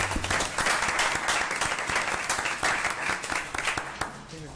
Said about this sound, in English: let's give her a hand of applause.